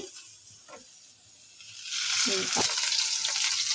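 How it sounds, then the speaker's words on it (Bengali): Chopped onions hitting hot oil as the filling for homemade singara begins, a quiet start that swells into a loud, close sizzle over the second half, with faint clatter of a utensil. "এখানে আমি পেঁয়াজ দিয়ে দিলাম দিয়ে তেল দিয়ে দিচ্ছি"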